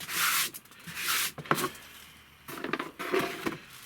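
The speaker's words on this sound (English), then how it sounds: "Scrape away in there." Scraping loose white stone bits off a scratch-built tabletop model base, close dry scratchy rubbing strokes in short bursts with brief pauses.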